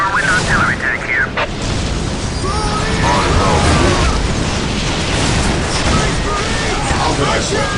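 Artillery explosions from a Whirlwind tank in Warhammer 40,000: Dawn of War roll on as dense, continuous booms and bursts throughout, loud and layered with battle noise, while unit voices speak over the din.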